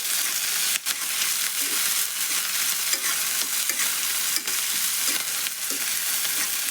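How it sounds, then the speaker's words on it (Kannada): Eggs frying in oil in a pan for an egg palya give a loud, continuous, close hiss and crackle, with occasional stirring knocks and no voices. "ಈಗ ಎಣ್ಣೆ ಒಳಗೆ ಫ್ರೈ ಮಾಡೋಣ್ರಿ ಇವನ್ನ."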